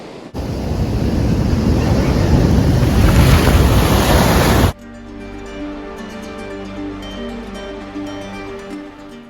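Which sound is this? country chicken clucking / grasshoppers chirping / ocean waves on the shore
ocean waves on the shore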